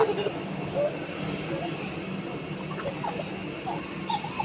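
A low rumbling hum of a metro train with faint mechanical rattling, heard at a station amid background chatter.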